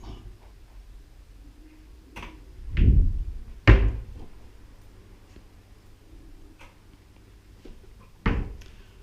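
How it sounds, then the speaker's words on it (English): Doors of a three-door wardrobe in a rented apartment bedroom being opened and shut, giving a few separate wooden thunks and knocks spread across the stretch, with quiet room tone between them and no talk. "a 3-door wardrobe"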